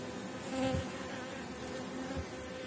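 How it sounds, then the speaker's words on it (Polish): Honey bees buzz steadily all around an open hive, a dense droning hum with individual insects swelling louder as they pass close by. "Wszędzie pełno pszczół."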